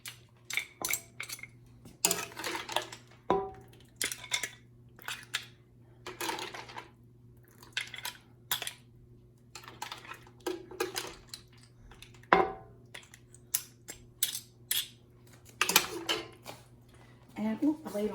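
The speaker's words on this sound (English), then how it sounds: "I like taking out the seafood, putting it in a bowl, and then ladling the broth over it" Seafood soup being plated: pieces of seafood lifted into a bowl and broth ladled over, with repeated clinks and scrapes of utensils against dishes in irregular bursts over a steady low hum, close and moderately loud.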